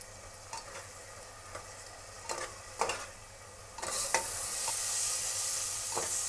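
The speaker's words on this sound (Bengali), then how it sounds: "এবার ভালো করে কষিয়ে নেব, যাতে টমেটোর যে একটা কাঁচা গন্ধ থাকে সেটা যেন চলে যায়" Spice paste with tomato for a Bengali mutton curry is stirred and sautéed in a pan, with soft sizzling and scattered scrapes of a spoon, the frying growing louder and more continuous toward the end.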